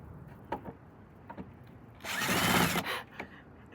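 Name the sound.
power drill drilling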